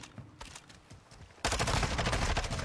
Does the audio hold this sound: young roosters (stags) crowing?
no